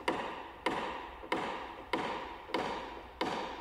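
Six light, evenly spaced taps of a hammer knocking down a high spot on a dented car panel, each a sharp knock with a short ringing decay, close and fairly quiet.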